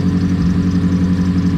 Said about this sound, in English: It's pretty loud because it's a straight like 3-inch exhaust all the way to the back, so no resonator